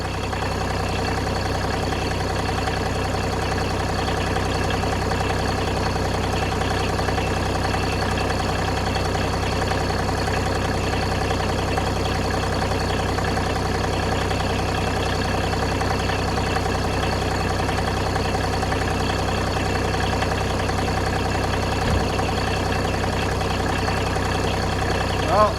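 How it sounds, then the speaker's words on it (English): A snowplow engine idles at a camp road, a steady, continuous low mechanical hum and rumble that stays even and unchanging for the whole stretch, with no voices. "You can listen to that beautiful Kupke engine just purring along."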